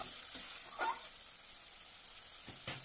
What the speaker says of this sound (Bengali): আর যেহেতু গুঁড়ো মশলা দিয়েছি, সামান্য জল দিয়ে কষিয়ে নিলাম।